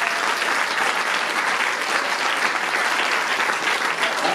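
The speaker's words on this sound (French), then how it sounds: "Mohamed a entendu les applaudissements" Sustained audience applause fills the room at a fashion show in Dijon, a dense, steady wash of clapping that stays loud and even throughout without any voices on top.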